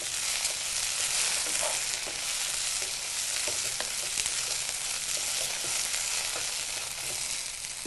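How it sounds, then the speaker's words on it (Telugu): Okra curry stirred as it fries in oil: a steady, loud sizzle fills the whole stretch, with soft scraping strokes of a spoon through the pan at close range and no voices. "ఒకసారి బాగా కలుపుకొని"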